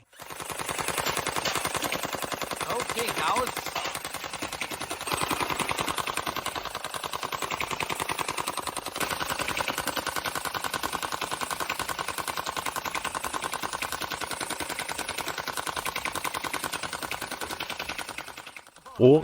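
Rapid, sustained clatter of Nerf blasters firing nonstop at red cups and a reusable water-activated target, dense and fairly loud for nearly the whole stretch before stopping abruptly near the end.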